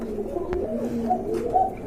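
Pigeons in a seller's collection coo softly and steadily, low throaty calls rolling on for about two seconds with a brief click near the start.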